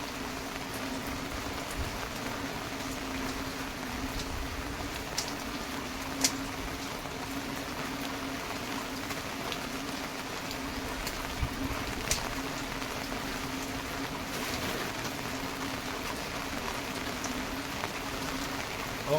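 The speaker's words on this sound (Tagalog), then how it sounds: "Etong tuloy-tuloy na ulan, mas okay to." Heavy rain falls steadily during Typhoon Crising, a dense, continuous hiss of drops on surfaces and water with occasional louder splashes, holding at an even level throughout with no voices.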